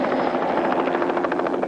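A rescue helicopter flies close by, its rotor thumping in a steady fast pulse over a loud, continuous engine roar.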